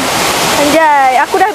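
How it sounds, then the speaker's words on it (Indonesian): Tirta Bhuana waterfall gives a brief broadband rushing roar that opens the moment, then a voice speaks over a quieter wash of water. "Waterfall."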